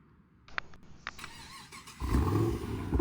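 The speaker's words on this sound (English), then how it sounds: "I usually cold start the car because it sounds amazing." A car cold-starting on a cold day: a few brief cranking clicks, then the engine catches and settles into a loud, rough, steady idle, close by with no talking.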